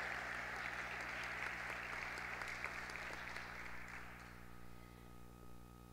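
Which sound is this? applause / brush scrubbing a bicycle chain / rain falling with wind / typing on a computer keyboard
applause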